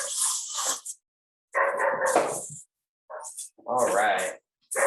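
Dog barks come in several short loud bursts, separated by gaps of silence, with some whimpering yips in between.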